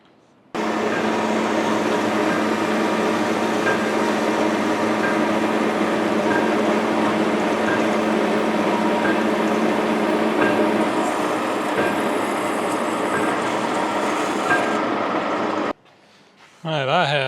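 A saw cuts steady and loud through metal clamped to a workshop table, a continuous grinding drone for about fifteen seconds that stops abruptly and briefly restarts, with a person speaking over it.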